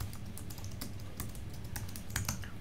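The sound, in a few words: typing on a computer keyboard to search forms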